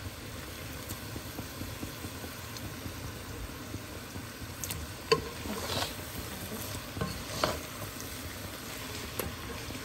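Radish curry simmering in a pan, a steady low sizzle and bubbling with a few brief clinks of stirring, moderately quiet and with no voices.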